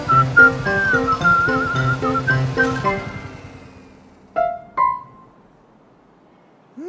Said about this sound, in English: Pinkerton tried to whistle to call Eli back.